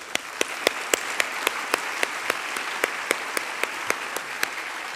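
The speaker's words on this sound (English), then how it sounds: "Let me applaud you." Audience applause at a university convocation: a steady hiss of clapping with sharp, evenly spaced claps standing out in a regular beat for about five seconds, fairly close and without talk.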